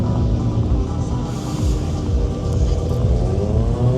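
A drift car engine roars continuously nearby with a heavy, throbbing rumble at an auto racing event in Metz, the revs wavering but never dropping away.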